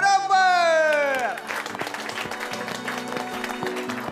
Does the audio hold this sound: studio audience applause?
yes